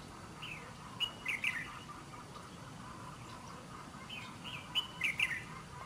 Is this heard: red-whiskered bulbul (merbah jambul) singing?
yes